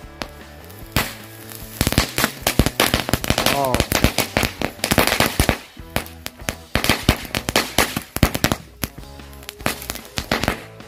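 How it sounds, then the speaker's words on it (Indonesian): Green-lighting firecrackers (mercon) set off outdoors on a Ramadan night, a long run of sharp, loud crackling bangs and pops in rapid irregular bursts, with a brief exclamation from a voice. "kita lihat hasilnya. Mercon green lighting."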